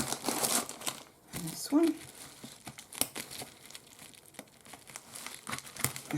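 Crinkly plastic packaging from a pink gel nail polish kit is cut and pulled open, close crackling and crumpling in irregular bursts with snips in between, while a person talks throughout.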